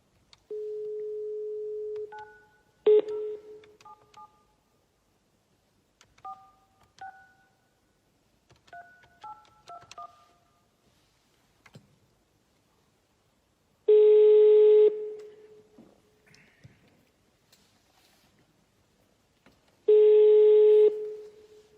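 Telephone keypad tones beep in quick short bursts, separated by pauses, while a number is dialed. Two longer steady ringback tones follow. The line is clean and close, with no talking.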